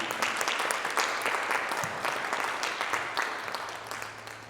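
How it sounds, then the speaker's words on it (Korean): Congregation applauding to welcome visitors during a Sunday service at a Presbyterian church, a steady, full round of clapping that fills the room throughout and tapers slightly toward the end. "우리 환영의 박수 보내드리겠습니다"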